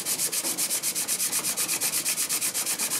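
A bench plane blade honed on fine sandpaper, sliding back and forth in a steady, fast rhythm of about seven strokes a second, a close, even scratchy rasp with no voices.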